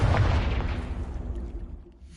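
A Confringo fire-blast spell in the video game Hogwarts Legacy goes off as a single loud, deep boom at the start, then rumbles down over about two seconds with no voices.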